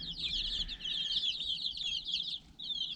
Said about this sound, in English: It's got some chickens.